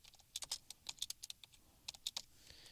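Quick, light clicks of a computer keyboard while typing jQuery code, irregular bursts of keystrokes close to the microphone with short pauses between, fairly quiet.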